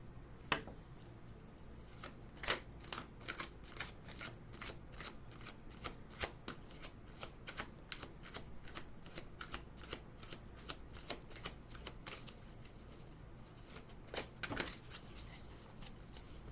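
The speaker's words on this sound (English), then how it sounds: "We're going to put these back in because they were just falling cards." A deck of tarot cards being shuffled by hand, with steady soft riffling and flicking taps that repeat closely for the whole stretch, fairly quiet and close up with no talk.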